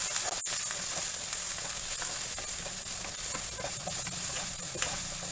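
Chopped onions with a pinch of turmeric frying in a pan for instant Chennai-style sambar, a steady close hiss and sizzle throughout with faint crackles and one sharp knock near the start, no voices.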